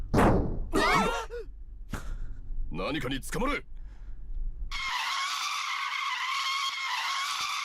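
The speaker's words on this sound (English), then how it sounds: "Then the piercing sound of tire brakes and the van rattled fiercely." A prison van's tires screech in a long, loud, piercing squeal as the van crashes, preceded by breathy vocal sighs and groans before the skid cuts in.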